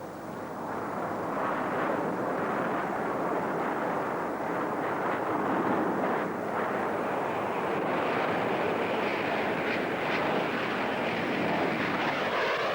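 A G91 military jet performs at a 1980s UK airshow, its engine a loud sustained roar that holds steady and close for the whole pass, with a broad rushing tone.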